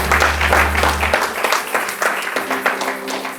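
Church congregation applauding, a dense burst of clapping from many hands that carries on steadily, loud and close, with a low hum at the start.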